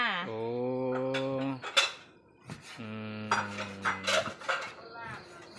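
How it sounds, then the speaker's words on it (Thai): Bowls and dishes being set out during home cooking with pork lard, giving a few light clinks and knocks amid voices. "ทางนี้ก็กำลังจัดเตรียมถ้วย โถโอชามเนาะ"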